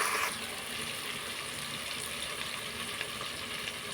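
Tomatoes sautéing in a pan for chicken biryani, along with green chillies, bay leaf and garam masala, make a steady, even sizzle that holds at moderate loudness throughout with no talking.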